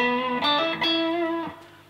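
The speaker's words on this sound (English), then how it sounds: "I'm going to use the Pugilist distortion pedal" A Strat-style electric guitar played through a Pugilist distortion pedal on a subtler blended channel rings out a few sustained, harmonically rich notes with a light overdriven edge, alone and close.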